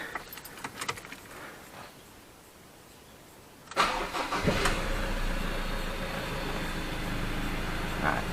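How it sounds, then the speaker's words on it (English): A Mazda BT50 PRO 2.2 diesel pickup (Ford Ranger) starts up after an oil change: a quiet key jingle, then a sharp crank and catch settling into a loud, steady idle close by. "it's important I start it up quickly, check for leaks, and to get this oil pump primed"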